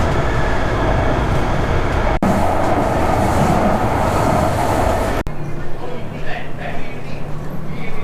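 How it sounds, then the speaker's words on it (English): Loud, steady rumble of a Denver commuter train in motion, heard from inside the carriage, with a couple of sharp clicks and a quieter stretch near the end. "We're gonna take the train to Union Station. So that's what we're doing right now"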